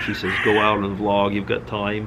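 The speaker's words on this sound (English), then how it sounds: "You can hear the birds right now" Crows caw outdoors while someone talks continuously over them, the calls partly masked beneath his voice.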